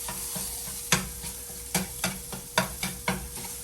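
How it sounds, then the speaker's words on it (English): Steady sizzling of sausage frying in a cast iron pan, with periodic scraping taps of a utensil breaking it up every half second or so. "I hear my sausage starting to sizzle in the background"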